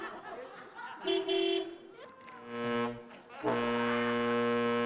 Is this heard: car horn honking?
yes